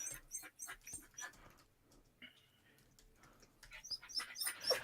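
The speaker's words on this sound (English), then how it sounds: "My dog is screaming at me" A pet dog whines and yelps for attention indoors, a run of short high cries and whimpers coming in bursts, fairly faint and close.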